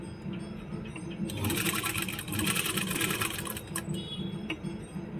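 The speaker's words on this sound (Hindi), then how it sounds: "अब हम मशीन पे चलते हैं और अपनी काफ्तान की सिलाई स्टार्ट करते हैं।" An electric sewing machine stitches around the neckline of a cotton kaftan, a close, steady mechanical whir with rapid needle clatter that starts after about a second, runs for a few seconds and then stops. A low background hum continues underneath.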